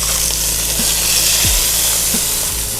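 Beef and its juice go into a crock pot with a steady wet sizzle and hiss, a few soft knocks and scrapes sounding as the meat settles, close and continuous throughout.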